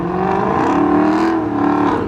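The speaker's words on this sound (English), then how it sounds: "There's a burnout happening here." At a car meet, a car doing a burnout holds a loud, steady engine roar with a rough, whirring edge, sounding somewhat distant and continuous.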